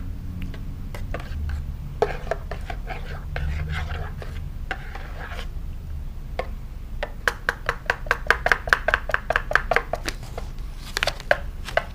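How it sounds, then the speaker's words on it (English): A spoon scrapes and rasps around a pot of food being stirred on a cheap motel stove, a steady run of gritty strokes that quickens into sharp rapid scrapes toward the end. "Stir it up."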